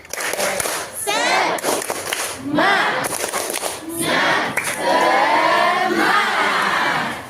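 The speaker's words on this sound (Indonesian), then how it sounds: "Tepuk semangat" A school class calls out the tepuk semangat spirit clap together, loud bursts of children's voices and shouting in a classroom, several rising shouts repeated over a few seconds, close and energetic.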